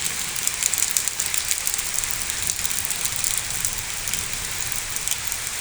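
Downpour beating on surfaces near a house balcony in Shailkupa during Baishakh, a bright, steady hiss of heavy rain with occasional sharper splats, close and sustained throughout.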